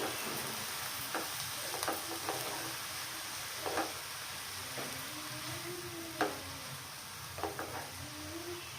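Spinach sizzles and crackles in a pan while being stirred, with scattered spoon scrapes and light taps over a steady frying hiss, close and moderately quiet, without speech.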